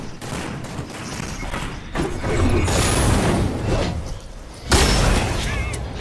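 SMG fire in a Fortnite match rattles in dense, loud bursts mixed with thuds and a sharp blast near the end, close by, with players talking over it.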